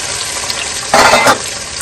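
Peas and carrots frying in a pan over full flame, giving a loud steady sizzle that swells briefly into a harsher hiss for a moment.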